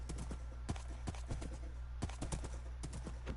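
Rapid hooves of a fast horse clip-clop steadily in a video game, a quick even galloping rhythm over a constant low hum, fairly faint.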